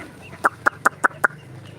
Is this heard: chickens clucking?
yes